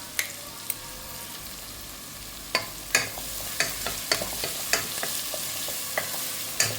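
Onions sautéing in a pan with salt for an okra stir-fry: a steady close sizzle with sharp scraping clicks of a spatula stirring, growing more frequent toward the end.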